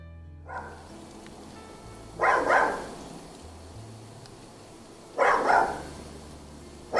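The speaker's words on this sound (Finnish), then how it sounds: "Niin, Pepe siellä haukkuu." A dog named Pepe barks in two short bursts a few seconds apart, sounding somewhat distant against a quiet background.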